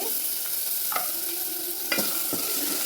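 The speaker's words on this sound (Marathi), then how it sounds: "आणि आता हा मसाला टाकते" Masala with ginger and garlic fries in hot oil in a pan for a mutton curry, a continuous close sizzle broken by a few scraping stirs of a spoon.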